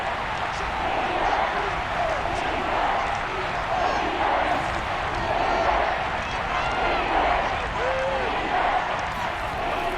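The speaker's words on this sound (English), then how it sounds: "Crowd getting in it a bit already." Stadium crowd noise in the Madden NFL 22 video game during a Miami Dolphins at Tampa Bay Buccaneers football game, a steady broad roar with swelling cheers running under frequent commentator speech.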